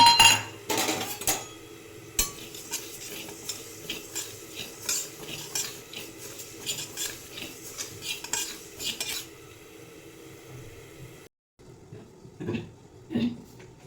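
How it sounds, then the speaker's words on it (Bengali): Lentils (dal) stirred in a pan, spoon and utensil clatter repeating over a faint background hiss, close and fairly quiet, with a brief pause near the end before more scraping. "এবার দিয়ে দেব ডাল ডালটা ভেজে নেব"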